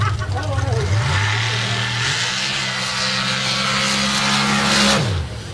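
A nitrous drag racing car launches hard down the strip at night, its engine a loud, steady roar that climbs through gear changes, heard under a commentator's voice.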